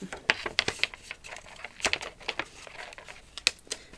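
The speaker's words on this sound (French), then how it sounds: "Le papier calque, j'ai toujours peur qu'il se déchire quand je le manipule trop fort." Crisp crinkling and rustling of stiff tracing paper being handled up close, with irregular crackles and small snaps over a few seconds.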